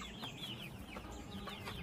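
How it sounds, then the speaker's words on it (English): Hens in a chicken coop cluck and chirp in short overlapping calls, with a steady low rumble of background noise beneath them. "So we actually have real chickens."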